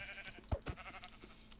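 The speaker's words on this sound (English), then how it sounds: "I'm having to punch sheep because I forgot to make it like that." Minecraft sheep being punched, giving a couple of short, fairly loud bleats close by with quieter game sounds between them.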